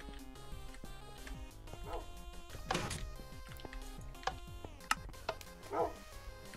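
Minecraft dog barking in a few short yips amid game music and clattering effects, faint and mixed low beneath the soundtrack.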